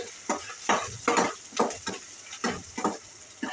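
Onion and coriander stems sautéing in a pan for street-style pav bhaji, with repeated rhythmic scraping stirs of a spatula over a soft sizzle, close and without speech.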